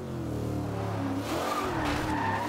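Stock 2015 Corvette Z06 tyres squealing and skidding as the tail slides out in Forza Horizon 2, a steady near rubber screech over engine drone that rises and wavers in pitch midway, with no talk.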